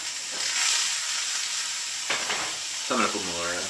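Sirloin steaks sizzle steadily in a frying pan, a bright continuous hiss holding throughout, with a person briefly talking over it near the end.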